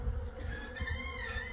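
Honeybees in an apiary hum and buzz steadily around a hive, with a continuous close drone and no speech.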